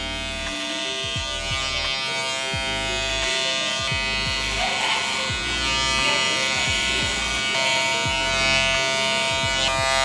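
An electric hair clipper buzzes steadily and close up while cutting curly hair in a self-cut drop fade, its hum rising and dipping slightly as strokes are made, with no speech.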